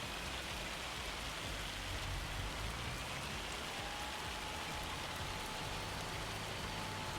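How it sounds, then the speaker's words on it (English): Hail pours down in Farming Simulator 25 as a dense, steady hiss of pellets drumming on surfaces, continuous and loud throughout. "Need this hail to let up, man."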